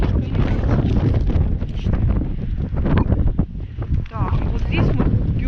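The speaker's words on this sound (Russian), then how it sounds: "Очень сильный ветер." Strong wind gusting along a gulf shore, roaring loudly and steadily into the microphone with constant buffeting throughout.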